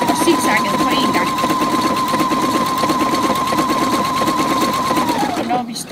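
A sewing machine runs continuously at a steady high speed, sewing a zigzag overlock-style stretch seam on fabric, with a steady whirring hum that winds down and stops at the end; a person talks over it.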